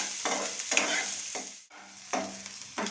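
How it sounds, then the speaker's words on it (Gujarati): Chopped onions frying in a pan on a low flame, stirred in several scraping strokes over a gentle sizzle, close, with a brief pause near the middle. "હવે આપણે આ ડુંગળી સુધારી હતી એ નાખી દઈશું અને એમાં ધીમા ગેસે સાચવી લઈએ"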